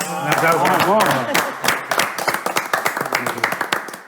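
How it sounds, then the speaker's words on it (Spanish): Applause for the grill cook at an asado: a few seconds of hand clapping that grows into a run of sharp, rhythmic claps, with voices talking over the start. "Hay un aplauso para el asador"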